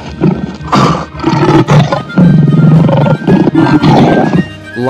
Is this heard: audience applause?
no